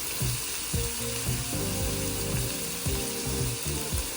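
Soy sauce goes into shrimp sizzling in a pan for shrimp fried rice, making a constant bright hiss and crackle up close. Soft tonal music plays steadily underneath.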